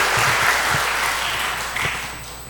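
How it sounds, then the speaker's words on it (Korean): Church congregation applauding the choir and conductor during a Sunday service, a steady wash of many hands clapping that fills the whole stretch and tapers slightly toward the end. "우리 박수 한 번 더 하시죠"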